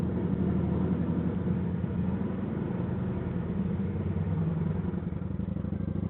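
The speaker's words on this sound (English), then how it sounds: "You hear how the bike sounds right now at idle?" A motorcycle engine idles steadily up close, a low even rumble with a light mechanical clatter and no revving, with no talk over it.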